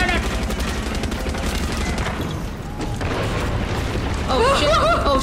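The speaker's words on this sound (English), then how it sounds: "Keep shooting." Heavy gunfire in the Far Cry 6 video game, a dense continuous fusillade of rapid shots and booms throughout, loud and close, with faint game voices underneath.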